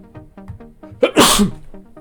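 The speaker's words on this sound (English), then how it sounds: "That sneeze hurt." A single loud, forceful sneeze bursts out midway, preceded by short rhythmic catching breaths.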